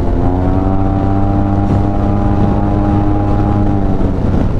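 A loud, steady engine drone with a constant harmonic hum, running continuously at speed, from a 2023 Yamaha TMAX Tech Max maxi-scooter with a Malossi full system exhaust cruising along.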